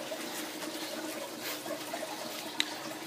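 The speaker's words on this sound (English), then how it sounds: "filter floss, which trickles over some biological pot scrubbers right here" Water trickling through filter floss over biological pot scrubbers in a DIY aquarium refugium trickle tower, a steady soft splashing flow with small drips, fairly quiet and continuous throughout.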